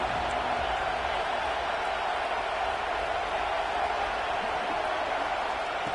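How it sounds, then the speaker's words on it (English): Football stadium crowd cheering before a play, a steady, dense roar of many voices that holds evenly throughout without breaks. "This crowd ready to make its presence known."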